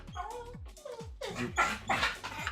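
A dog whimpering indoors, a series of rising whines and yips in quick succession that grow louder and more insistent toward the end, close by.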